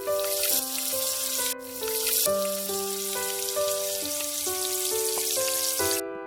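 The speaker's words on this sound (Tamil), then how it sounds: "எண்ணெய் சூடான உடனே இந்த மாதிரி கையில் தட்டி எண்ணெயில் ஒவ்வொன்றா போட்டுடலாம்." Banana flower vadai patties fry in hot oil with a steady bright sizzle and crackle, heard under prominent background music throughout.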